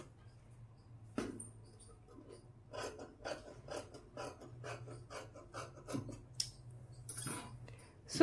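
Scissors cutting school uniform cloth, a rapid series of crisp snipping and rasping strokes in an even rhythm, close and fairly quiet over a low background hum, with a few sharper clicks.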